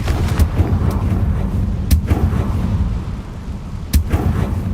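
Fiery Confringo spell blasts in the Hogwarts Legacy video game land as three sharp, heavy booms spaced about two seconds apart over a continuous rumbling game ambience.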